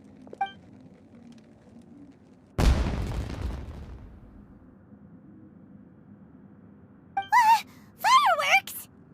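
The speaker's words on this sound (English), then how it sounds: "It sounded like fireworks." A firework burst in a Genshin Impact cutscene: one sudden loud boom with a crackling decay, followed later by short voiced exclamations.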